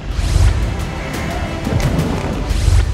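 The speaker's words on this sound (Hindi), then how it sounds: "धमाके, आग, धुआं और तबाही।" Deep booming explosions from Israeli military strikes rumble with crashing debris, a dense, loud, continuous roar with heavier thuds at the start and end.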